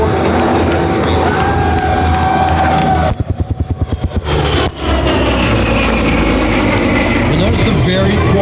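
A P-38 Lightning warbird with GE turbo-supercharged engines passes overhead at an outdoor airshow, a loud sustained propeller drone with a brief fluttering pulse midway, over crowd noise and a narrating voice.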